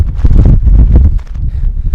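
Very strong mountain wind on Blyznytsia buffets the microphone in loud, uneven low rumbling gusts, alone for a couple of seconds.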